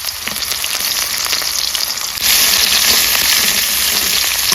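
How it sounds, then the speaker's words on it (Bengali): Black cumin paste hitting hot oil left from frying fish sizzles loudly and steadily, with a sudden surge in the hiss partway through as the paste spreads, no voices over it. "এখন মাছ ভাজা তেলে আমি কালো জিরা পেস্টটা দিয়ে দিলাম"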